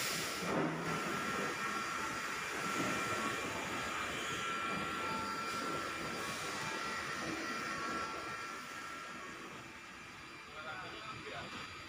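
Continuous droning hum of a vacuum pump evacuating a water chiller during service, steady and fairly quiet, easing slightly toward the end.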